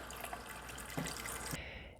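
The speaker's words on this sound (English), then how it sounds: "so now I'm going to top it off with water" Water pours steadily into a shake cup holding ice cubes, a soft continuous splashing fill with a faint clink near the middle, stopping abruptly just before the end.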